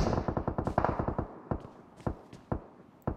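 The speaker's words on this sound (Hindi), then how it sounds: "काफ़ी फायरिंग की आवाज़ आ रही है" Gunfire in the PUBG Mobile battle royale game, a rapid automatic burst of sharp shots followed by several spaced single shots, fairly close and loud.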